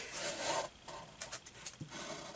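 Body filler scraped off a paint stick, short close rasping and rubbing strokes, one long scrape followed by a few quicker scratches.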